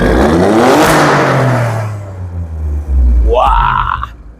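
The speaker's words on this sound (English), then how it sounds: "What is activated, and that's very audible, is your exhaust tone." An Alfa Romeo Stelvio QV in race mode roars loudly with a deep exhaust note, dips briefly, then rises again in a sharp, rising rev, heard close from behind the car.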